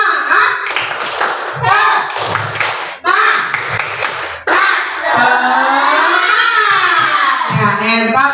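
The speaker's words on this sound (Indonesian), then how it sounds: "tepuk semangat" A class of young schoolchildren perform a rhythmic chanted spirit clap, bursts of unison clapping alternating with their shouted and sung voices, loud and close.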